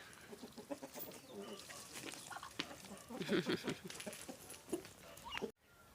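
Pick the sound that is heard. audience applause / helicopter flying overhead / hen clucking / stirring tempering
hen clucking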